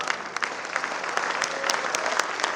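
An audience at Dr. HariOm Pawar's poetry recital claps steadily. The applause is dense and sustained throughout, with a few sharper claps standing out, and little else is heard.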